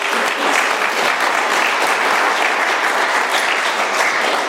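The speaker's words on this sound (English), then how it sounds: "Let's give Anthony another round of applause, that was incredible." Audience applause at an AA speaker meeting in Doylestown, PA: steady, dense clapping from a sizable crowd, loud and sustained throughout without talk.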